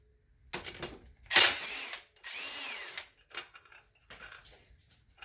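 Power tool driving a 22mm bolt in to pull the clutch on a RZR 570, heard as a few short whirring bursts with pauses and metallic clicks between, close up, no talking.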